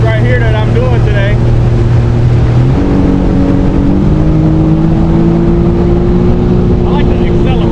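A jet ski engine accelerates on open water, a steady loud motor drone that steps up in pitch around the third and fourth seconds with constant spray and wind noise, and a voice talks briefly over it.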